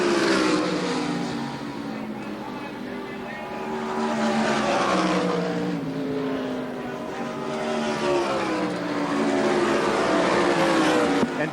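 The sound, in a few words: race cars racing at the Syracuse National Auto Supply 320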